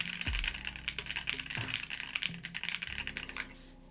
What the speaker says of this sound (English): let's do another typing test